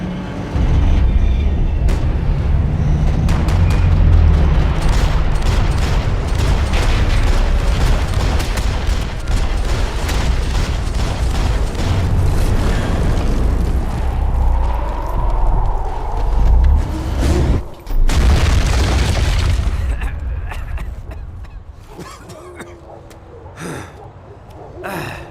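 Gunfire and explosions rage in the video game Max Payne 3, a loud, dense barrage of rapid shots and booms that continues almost without pause, easing slightly near the end.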